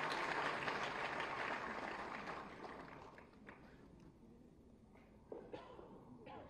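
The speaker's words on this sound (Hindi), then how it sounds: "जोरदार तालियां होनी चाहिए" Applause at a government loan-scheme ceremony for street vendors and self-help groups rises as a dense wash of clapping from a crowd, then thins and fades over several seconds, leaving scattered claps and hall noise.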